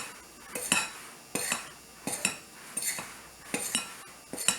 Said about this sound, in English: So I'm going to stir this up a little bit.